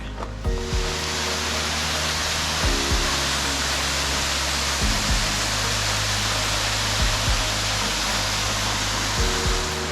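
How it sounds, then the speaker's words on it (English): Steady, dense roar of a waterfall in the La Plata Mountains fills the whole clip, loud and close, with a low engine-like drone running beneath the rushing water. "This is a really nice waterfall."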